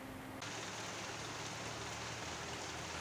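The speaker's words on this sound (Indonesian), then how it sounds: "Hujan deras disertai angin kencang melanda wilayah Kecamatan Gambiran, Banyuwangi" Heavy rain with strong wind over Gambiran, Banyuwangi: a dense, even hiss of downpour that swells after a brief quieter start and stays constant, faint overall, with no voices.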